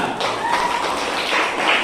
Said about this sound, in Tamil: சூப்பர், கை தட்டுங்க.